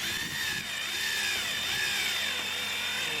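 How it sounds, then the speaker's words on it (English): A handheld power drill whirs steadily as it drives a screw while mounting a Norcold N811 refrigerator cooling unit, with a continuous close-up motor whine and slight dips in pitch under load. "Use a drill, a little push."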